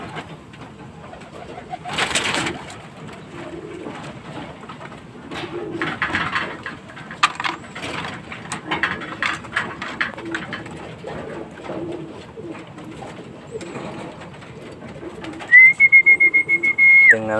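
Pigeons coo in a loft, their soft, repeated throaty calls coming from close by through most of the stretch, joined near the end by a brief high whistle.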